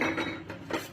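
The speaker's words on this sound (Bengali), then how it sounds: "পেঁয়াজগুলি দিয়ে দিলাম" Chopped onions tipped into a pot for a beef and cabbage curry, giving a few soft clattering thumps and scrapes close by over roughly a second, with no talking.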